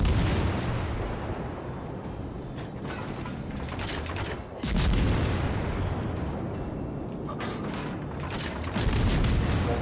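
Naval gunfire in World of Warships Legends: heavy ship guns boom in separate loud salvos amid mechanical clanking and turret machinery, with a steady hum of battle between shots.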